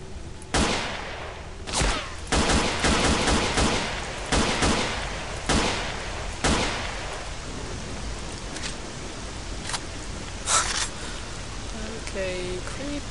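Pistol gunfire in a survival scavenging video game: several sharp, loud shots spaced irregularly over a rainy, noisy background, with a few more bursts later and a brief voice near the end.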